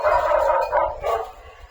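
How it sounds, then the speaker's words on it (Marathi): A recorded dog bark played from a tape, barking repeatedly in quick bursts, with a slightly thin, reproduced quality over a low steady hum. "तो कुत्र्याचा आवाज आहे तो रेकॉर्डेड आहे"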